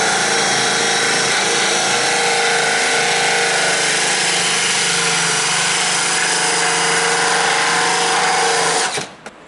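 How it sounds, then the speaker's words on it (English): A power drill fitted with a cutting tool bores through plastic on a golf cart during a battery conversion, a loud continuous whining grind held steady for about nine seconds before stopping abruptly. "So I'm going to use that tool I told you about with a drill."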